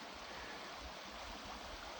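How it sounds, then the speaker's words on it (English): A small stream flows over boulders and cobbles, giving a soft, continuous rushing and gurgling that stays quiet and even throughout, with no talk. "But it's a nice little stream here."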